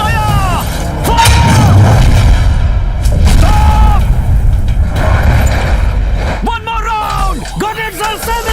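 Artillery gun fire in a 1971 war film, with repeated loud booms and heavy rumbling under a dense battle soundscape, along with shrill whistling or screaming tones that come and go.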